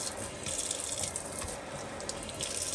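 Water spraying from a newly installed kitchen faucet into a sink, a steady hissing rush with no pauses, close and even in level.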